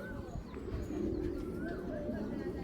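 Soft, low cooing from a tila-eyed racing pigeon chick among other pigeons carries on steadily, close and fairly quiet, with faint chirps above a dense background murmur.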